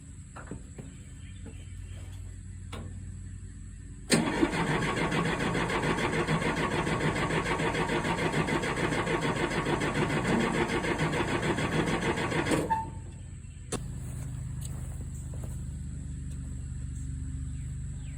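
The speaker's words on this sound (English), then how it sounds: "see if we can hear this thing run at least a little bit" An old diesel engine in a 1967 Allis-Chalmers HD-4 crawler loader, left sitting for nearly a decade, suddenly catches and runs loudly and roughly for about eight seconds, then cuts out, leaving quiet background rumble. No speech.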